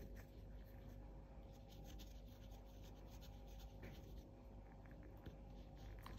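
A pen or pencil drawing a music diagram by hand on paper makes soft, continuous scratching and rubbing strokes, close but faint over a steady low hum.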